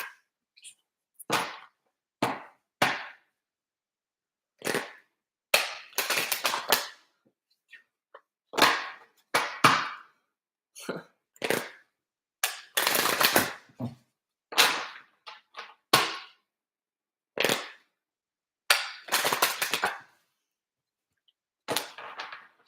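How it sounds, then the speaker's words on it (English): Tarot cards being shuffled in repeated short riffle bursts, a dozen or more sharp crisp flurries separated by brief pauses, close and fairly loud with no talking. "All right, I'm shuffling."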